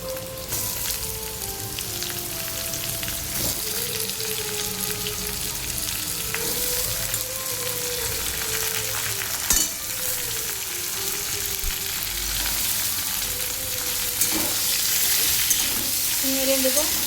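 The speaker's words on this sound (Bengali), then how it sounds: "এবার একে একে আমি সবজিগুলো দিয়ে দেবো।" Mixed vegetables fry loudly in a pan, a dense continuous sizzle over the whole stretch with occasional stirring scrapes, close up, while a faint voice murmurs in the background.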